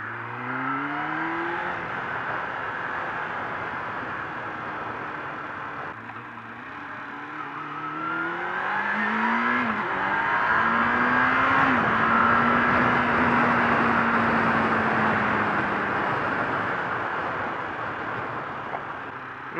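Cars and trucks on a road heard from inside a moving vehicle while it overtakes them, with a steady engine drone, rising and falling whines and passing vehicle noise that swells in the middle and stays loud throughout.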